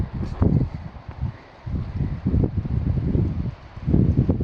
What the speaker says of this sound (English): Been windy the whole time pretty much.